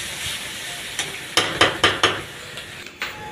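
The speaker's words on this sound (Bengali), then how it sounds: "একটু তেল দিয়ে একটু নরম করে নিলাম, পেঁয়াজটাকে ভাজা ভাজা করে নিচ্ছি।" Onions frying in oil in a home kitchen pan, giving a soft steady sizzle broken by a handful of sharp scraping stir strokes, close and with no voices.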